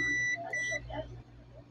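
A multimeter's continuity buzzer beeps twice in quick succession, close and clear, with a low hum underneath, while testing a dual inverter window air conditioner.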